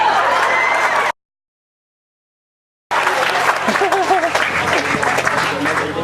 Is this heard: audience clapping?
yes